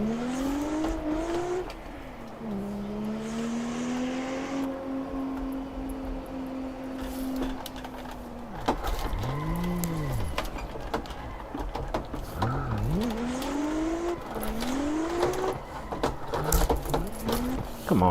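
A modified 500 hp Lexus GS300 in the Assetto Corsa racing game drones steadily through its engine note, rising and falling as revs swing while the car slides on a track, continuous and moderately loud with no talk.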